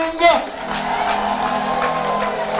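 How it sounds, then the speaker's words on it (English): An audience claps and cheers in a broadcast hall for a donation to the elderly Little Sisters of Kakunjeru, a moderate, steady patter of hands with a shout near the start and some voices mixed in. "where is the clapping?"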